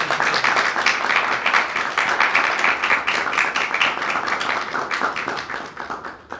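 Steady, dense audience applause fills an ecumenical church ceremony during a prayer-for-unity gathering, loud and continuous with many hands clapping together, tapering slightly toward the end.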